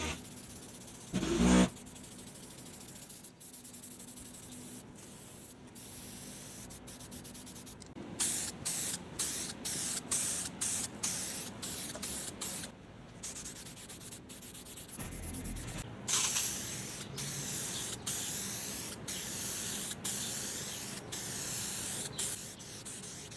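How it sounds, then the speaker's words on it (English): Aerosol spray paint goes on in repeated short hissing bursts, some longer sustained sprays and rapid on-off pulses, close and loud against a quiet background with occasional rubbing or handling noises between them. "then I'll start spray painting it"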